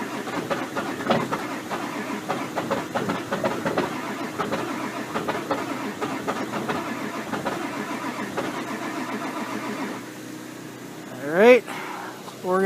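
A 1999 Ford Super Duty diesel truck cranks on a cold start with a long, steady, rhythmic churn that stops near the end, followed by a brief rising whine.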